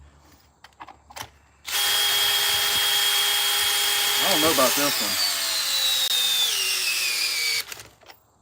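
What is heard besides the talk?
power drill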